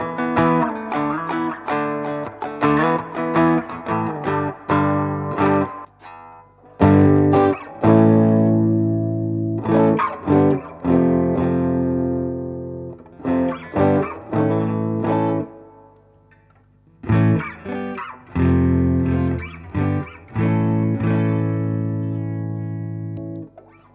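Electric guitar run through a Musikding Range treble booster pedal with reverb added, playing loud, bright distorted chords and riffs in bursts with brief pauses, reverb tails ringing out, no voices.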